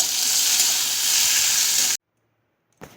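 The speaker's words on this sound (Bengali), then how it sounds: "একটু আমি ভেজে নেবো সরষাটা দিয়ে" Mustard oil sizzles in a frying pan, a loud, steady broadband crackle for about two seconds that cuts off abruptly, followed by silence and a brief burst of sizzle at the end.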